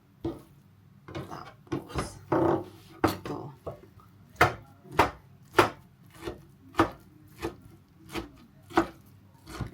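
A knife chops eggplant on a cutting board in a quick series of sharp, close knocks, a few uneven strikes first, then a steady rhythmic run.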